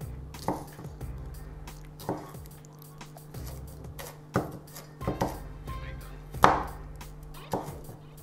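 Spring onion chopped with a knife on a board in a kitchen: sharp, regular thuds about once a second, close and clear with no one talking.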